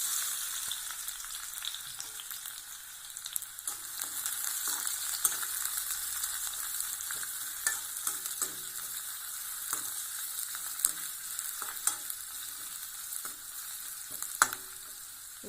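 Onions frying in oil in a pan for a pasta dish, giving a steady crackling sizzle with scattered pops and occasional stirring scrapes, moderately loud and with no talking.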